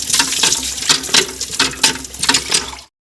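Water runs strongly from a tap at first dirty and then clearing, a loud steady gush with splashing surges that continues for nearly three seconds, then cuts off abruptly into silence.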